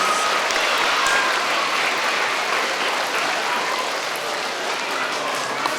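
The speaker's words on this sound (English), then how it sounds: "Give them a round of applause, please." A crowd at an elementary school Veterans Day ceremony applauds Air Force veterans. The clapping is dense, even and sustained, filling the room for several seconds without any voices.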